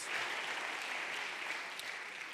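Congregation applauding at a church service, a broad, continuous wash of many hands clapping, steady and fairly distant, with no talking over it.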